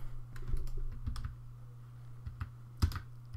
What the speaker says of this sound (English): you just want to hit F4 on the keyboard